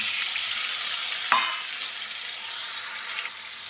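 Potatoes fry in a pan with onion and black cumin, a steady, close sizzle with one quick utensil scrape partway through.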